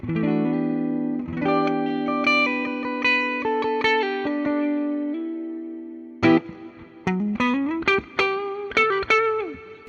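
Electric guitar, a 2026 Gibson Sadler Vaden SG Standard, played on a warm, round neck pickup, sustained notes and chords ringing out, then a run of quick plucked notes.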